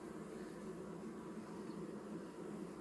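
Honeybees being shaken and brushed off hive frames while merging colonies, a dense, steady buzzing drone that stays fairly faint throughout, with no voices.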